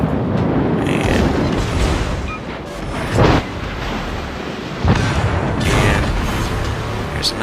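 Booming naval gunfire and explosions from a World of Warships game battle featuring the battleship New Mexico, a loud continuous rumble with heavier bursts near three and five seconds.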